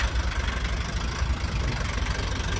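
A small Dongfeng 404 mini tractor engine idles steadily with a low, chugging rumble, continuous and fairly close, with no voices.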